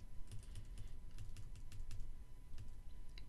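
Computer keyboard keys are pressed repeatedly while working in a LibreOffice Calc spreadsheet, the shift and arrow keys tapped in quick runs of crisp, close clicks with short pauses between them.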